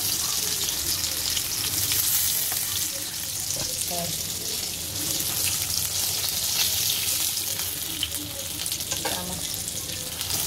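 Large pieces of rohu fish, from a 3–4 kg fish, frying in plenty of oil, producing a constant close sizzle with stirring and faint background voices.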